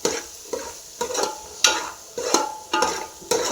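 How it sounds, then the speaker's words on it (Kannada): Food frying in a pan and being mixed, with sharp spatula scrapes landing about every half second over a continuous sizzle. "ನೋಡಿ ನೀಟಾಗಿ ಮಿಕ್ಸ್ ಮಾಡ್ತೀವಿ"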